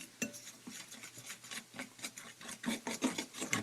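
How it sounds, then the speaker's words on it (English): A spoon works through a seasoned, lumpy batter in a bowl, giving soft rhythmic scraping and rubbing strokes, quiet and close, about eight or nine passes with no speech. "you're going to just mix it up until it looks kind of like a lumpy batter"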